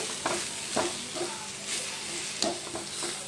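Onion masala seasoned with salt, turmeric and chaat masala is stirred in a pan: a low continuous sizzle with regular spatula scrapes every half second or so.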